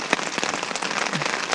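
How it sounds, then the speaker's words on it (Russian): Rain patters on a tent pitched on a high bank of the Luga River, a dense close hiss of drops with scattered sharper taps on the fabric, moderately loud and steady. "У кого как, а у нас в палатке под дождем"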